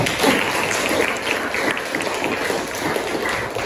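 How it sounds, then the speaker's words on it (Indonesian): Students applauding together in a university civics lecture, a steady, even patter of many hands clapping at moderate volume for a few seconds, with no speech over it. "tepuk tangan dulu buat kita semuanya"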